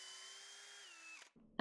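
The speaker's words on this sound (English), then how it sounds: "Drilling a 3-inch hole while holding onto the piece could be seen as unsafe" A power drill bores a 3-inch hole into a piece of wood held by hand, a steady whining motor tone that dips slightly in pitch, then cuts off before a brief clatter.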